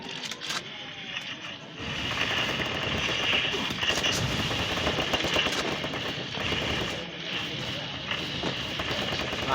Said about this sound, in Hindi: यहाँ पे फायरिंग के हद शुरू